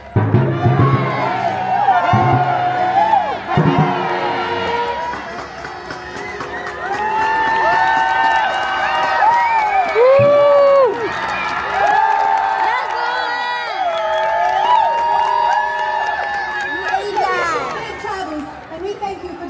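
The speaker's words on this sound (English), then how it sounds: "lift your voices in cheer for the knights, squires, and steeds of this noble cause" Spectators at a joust at the Colorado Renaissance Festival in Larkspur cheer and whoop for the knights. Loud overlapping shouts, children's voices and chatter fill the whole stretch.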